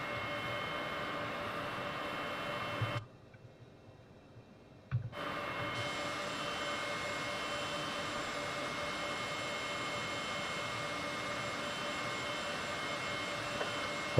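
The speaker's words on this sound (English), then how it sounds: "you can hear the engine starting to make more and more noise." Simulated Heinkel He 162 jet engine in Flight Simulator 2020 as a steady broadband roar, cut to near silence for about two seconds, then returning at the same loud, even level with a faint high whine.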